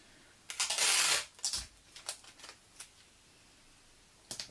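Sellotape dispenser pulling and tearing tape at close range: a loud rasping burst of tape stripping off the roll, then several shorter scratchy crackles and a final quick tear, with no talking.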